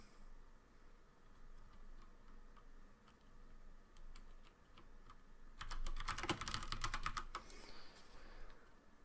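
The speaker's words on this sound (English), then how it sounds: "Just gonna type in here" Keys clatter on a computer keyboard in a quiet room, first as sparse scattered taps, then as a dense, louder burst of rapid typing before trailing off into a few final clicks.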